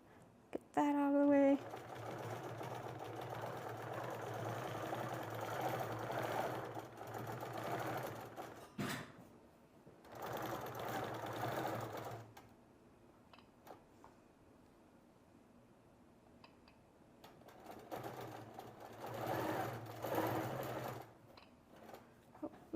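A sewing machine quilting runs in several bursts of rapid, whirring stitching, pausing between runs, fairly quiet and close, with a few small handling noises in the gaps.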